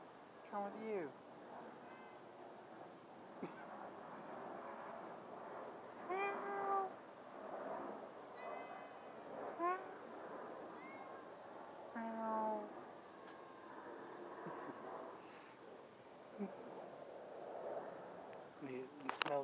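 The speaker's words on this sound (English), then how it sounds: "See the cat?" A cat meows several times up close, short tonal calls spread through the stretch, with a person talking now and then between and over them.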